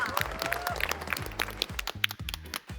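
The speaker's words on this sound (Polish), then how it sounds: "Wielkie brawa!" Festival crowd applauding a game-show contestant at an outdoor city celebration, with a steady clatter of claps over thumping bass music and bits of crowd noise.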